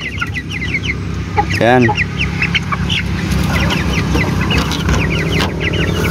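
Chicks cheep in rapid high peeps close by, with their mother hen's clucking rising briefly in the middle and someone speaking a single word.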